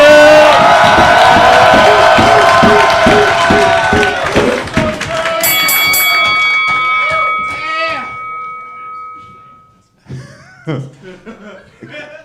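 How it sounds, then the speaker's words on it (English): A podcast audience at a comedy roast awards show claps and cheers loudly, with chuckles mixed in, fading out midway before a host talks briefly near the end. "Clap your fucking hands"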